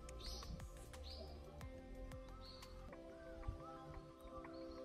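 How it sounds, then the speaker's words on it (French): Several birds chirp and tweet in short, scattered calls over a quiet background hum in Kobe, Japan, some near, some farther off. "On entend les oiseaux."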